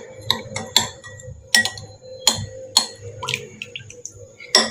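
A spoon clinks repeatedly against a bowl while buttermilk is mixed with a little salt, producing sharp, close metallic taps in an irregular rhythm over a faint low background hum.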